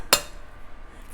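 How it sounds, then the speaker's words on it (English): A single sharp crack of an egg struck against a hard kitchen edge, close and brief, followed by quiet; one of five organic eggs being broken for a grain-free, low-carb protein bread. "I'm going to start by breaking the eggs"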